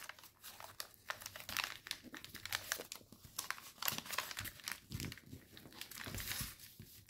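Origami paper being creased and flattened while folding a helicopter model, giving close, dense crinkling and crisp crackles in irregular bursts throughout, with no talking.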